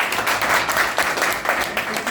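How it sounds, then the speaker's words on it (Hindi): Children clapping for their parents at a guidance session in Madhya Pradesh, a dense ongoing patter of many hands with a few louder swells, close and steady for about two seconds. "एक बार फिर से मम्मी पापा के लिए ताली बजाइए"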